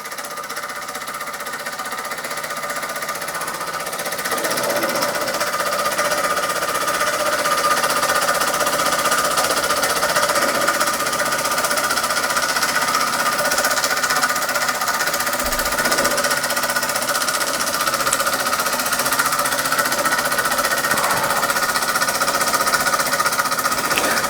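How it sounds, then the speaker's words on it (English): A 1948 Mamod Minor 2 model steam engine runs nearby with a rapid, steady mechanical chatter and hum that grows louder after a few seconds and keeps going evenly to the end. "(1948) Mamod Minor 2, running like it was brand new."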